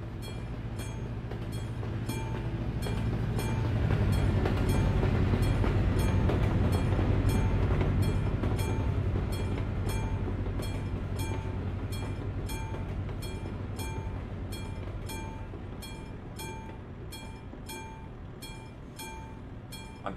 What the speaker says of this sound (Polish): Musimy przepuścić pociąg.